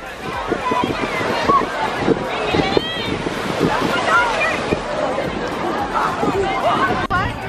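Ocean waves at a beach wash and rumble steadily beneath wind buffeting the microphone, while nearby voices chatter and call out over the surf.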